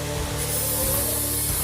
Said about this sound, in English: Oh, he's welding.